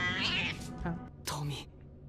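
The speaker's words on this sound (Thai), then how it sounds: "อย่างน้อยแมวก็ไม่ใช่ตัวน่ากลัวขนาดนั้น" Cat in a Thai horror video game, two close, clear meows with a pause between them.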